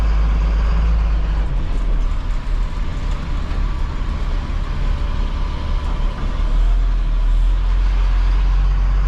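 A small truck drives along near a gravel pit, a steady low engine drone and road rumble heard from inside the cab, loud and continuous with no talking.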